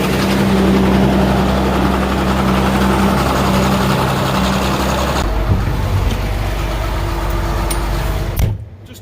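A loud, steady engine idles with a low rumbling drone and a constant hum, shifting slightly in tone partway through before cutting off near the end.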